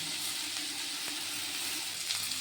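Vegetables and chopped green chilli sizzle in a frying pan while cooking Maggi noodles, a steady close hiss of frying with faint clinks, no talking.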